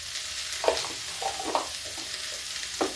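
Mixed vegetables frying in a pan with a little salt, a continuous close sizzle broken by several soft scraping stirs at irregular intervals, with no voices.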